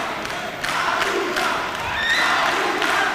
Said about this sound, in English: The crowd cheering Haruna on, Africa's giant.